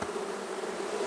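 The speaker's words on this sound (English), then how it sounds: "any of these other bees in this box flying around on top of me" Honey bees buzzing around a newly installed hive box, a dense close hum with a steady pitch that holds without a break for about a second.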